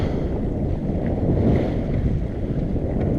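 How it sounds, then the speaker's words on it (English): Steady wind buffeting the microphone aboard a sailboat on its final tack toward an island, a continuous low rumble with faint water wash, loud and unbroken throughout with no talking. "This is the wind I was talking about."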